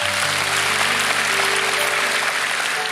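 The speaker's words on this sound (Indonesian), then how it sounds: "Kita tepuk tangan dulu." Congregation applauding during a church worship service sermon, a loud, dense burst of clapping with a faint sustained organ-like tone underneath.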